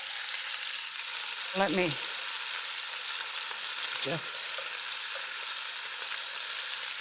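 Rolled beef braciole sizzle steadily as they brown in a pan, a constant crackling hiss, with two brief utensil scrapes as the rolls are turned and a few quiet spoken words.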